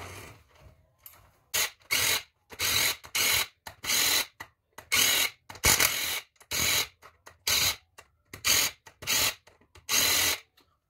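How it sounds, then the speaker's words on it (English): Electric ratchet removing 10 mm valve cover bolts on a Honda 300ex engine, heard as a series of short, close, buzzing whirs in irregular bursts separated by brief quiet gaps. "I'm too impatient for the electric ratchet sometimes"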